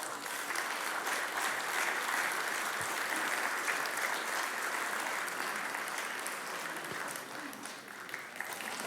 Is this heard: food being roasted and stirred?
no